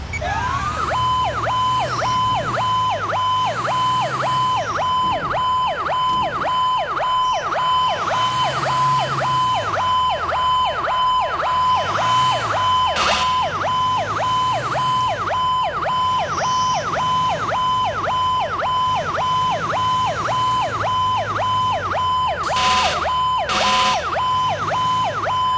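A custom fire truck siren in the video game LCPD:FR wails in a fast, steady repeating yelp for the whole stretch, loud and continuous, with a few brief bursts of horn over it.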